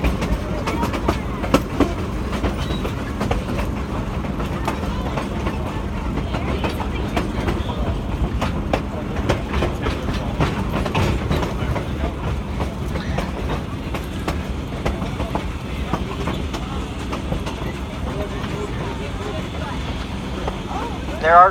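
Historic passenger train running on rails near the Lobato trestle, a steady rumble with clickety-clack wheel rhythm and a constant rolling drone throughout.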